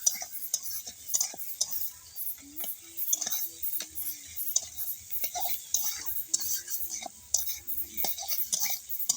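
A spoon scrapes and clatters repeatedly in a pan of fish-oil chorchori, with irregular close strokes over a faint sizzle and occasional soft murmuring in the background.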